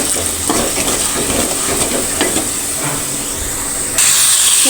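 Sweet pumpkin pieces are stirred in a pan with turmeric, giving a steady loud sizzle and hiss with scraping strokes throughout and no talk.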